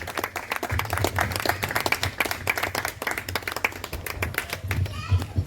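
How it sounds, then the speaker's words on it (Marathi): Hands clap steadily through a book launch ceremony, in a dense, continuous patter of applause with a low hum or music underneath. "आता टाळ्यांचा कडकडाट व्हायला पाहिजे."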